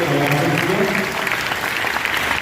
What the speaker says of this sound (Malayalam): നമുക്ക് ഉറക്കെ കൈയടിച്ചുകൊണ്ട്